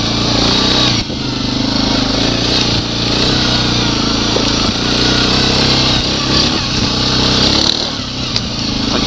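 A motorcycle accelerates hard, its engine roaring loud and close with a steady rising buzz and brief dips between pulls, with wind rushing over the rider.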